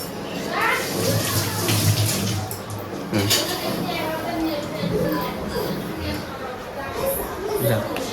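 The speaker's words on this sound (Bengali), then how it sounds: "আমি হাতটা ধুয়ে নি।" Tap water running steadily while hands are washed in a home kitchen, with dishes clinking faintly and people talking over the splashing throughout.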